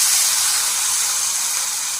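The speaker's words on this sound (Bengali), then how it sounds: "শুকনো লঙ্কা লাল লাল করে ভাজা হয়ে যায়" Dry red chillies hiss and sizzle loudly in hot oil, a steady bright frying sound with no speech, while a Bengali fish curry with drumsticks is cooked.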